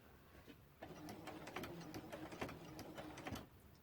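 A sewing machine stitches binding onto a quilt with a quiet, rapid mechanical chatter of needle strokes, running steadily after a brief pause at the start.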